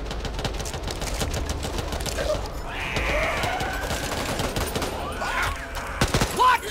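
Rapid bursts of gunfire crackle in Back 4 Blood, a steady dense stream of sharp reports under a busy game soundscape, with a few louder pops near the end.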